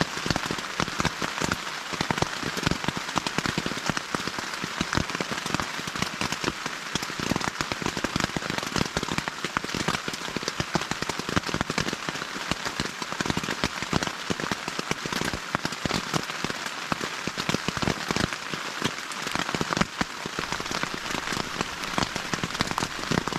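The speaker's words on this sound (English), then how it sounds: "I just checked on the tent after it went through a heavy rain event." Heavy rain drumming on a Snugpak Ionosphere tent at night, a dense continuous patter of drops with crackling hits throughout, loud and close.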